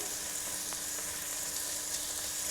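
Spices and red pepper fry in oil for borscht, producing a steady, close sizzle with faint scraping and clicks from stirring, at a moderate level and without voices.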